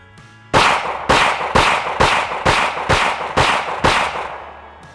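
Pistol shots fired on a range in a trigger-control demonstration, eight loud sharp reports in an even, quick rhythm about half a second apart, close and alone.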